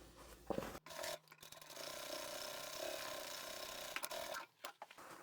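A sewing machine stitches a seam in a vinyl bag with a quiet, continuous mechanical whir and clatter, broken by short pauses near the start and end.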